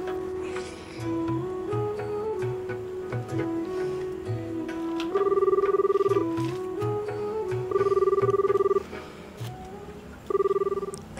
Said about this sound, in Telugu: దీనికి ఫోన్ చేద్దాం.